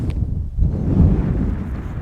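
Wind rumbles steadily across an open golf course, a low buffeting roar against the microphone that holds at a constant level for the whole stretch, with no talk over it.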